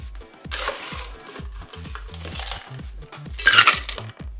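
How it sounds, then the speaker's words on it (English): Ice cubes tumble into a metal cocktail shaker for a Bloody Maria with gold tequila, giving a string of close, bright clinks and rattles with a louder burst of clatter near the end. "We'll add ice."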